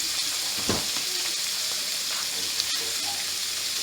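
Onions sizzling as they hit a skillet during the cooking of smothered cabbage, a steady broadband frying hiss with a brief burst near the start, close and continuous.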